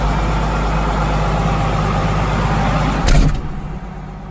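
A tractor engine idles steadily, heard from inside a closed 1983-style cab, a loud continuous low drone with a brief bump near the end before it eases slightly.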